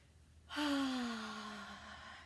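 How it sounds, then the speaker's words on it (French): A single deep exhale during an EFT tapping session, a sudden audible breath out that sighs and slowly trails off, close and fairly loud with a faint voiced tone. "Pendant un tapping, on respire bien, puis on expire bien."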